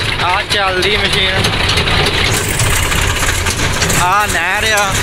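A combine harvester rumbles steadily with a low, continuous engine drone during the rice harvest on a farm, while people speak loudly over the machine noise.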